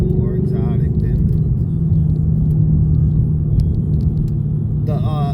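A Ford Mustang with an X-pipe exhaust gives a steady, raspy low rumble up close for several seconds, with brief speech at the start and end.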